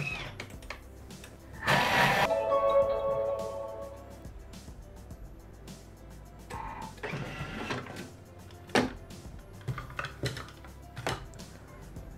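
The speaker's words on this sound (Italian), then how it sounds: "E azioniamo il bimby per 4 minuti a velocità 5" A Thermomix (Bimby) runs at speed 5, mixing granulated sugar for a cake, with a loud whirring burst near the start that settles into a steadier mechanical hum and some clatter.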